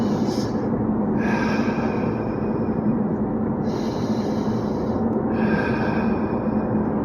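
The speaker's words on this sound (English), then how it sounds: "Start with your breathing." Deep, slow breaths drawn in and pushed out, several long airy inhales and exhales in a steady rhythm, heard close and alone over a constant rushing background.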